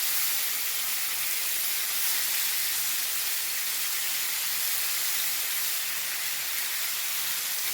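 Fish frying on both sides over medium flame in a hot pan gives a loud, dense, unbroken sizzle that holds steady throughout, with no talk.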